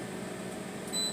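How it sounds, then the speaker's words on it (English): A microwave oven's timer going off in a home kitchen, a short electronic beep near the end over a steady low hum. "Sorry about the microwave beeping."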